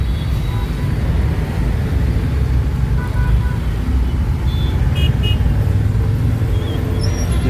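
Dense traffic jam in Chennai, a constant loud roar of engines and road noise with brief car horn toots sounding here and there, voices talking underneath.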